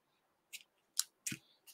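Scissors cutting ribbon off a roll for a small paper craft bow, a few quick close snips and clicks spaced over about a second and a half, faint and without talk.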